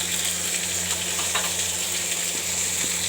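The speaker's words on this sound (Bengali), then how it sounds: "আলু ভাজা তেলের মধ্যে আমি দিয়ে নিচ্ছি" Potato pieces sizzling steadily in hot oil for a fish curry with cauliflower, a dense continuous crackle throughout.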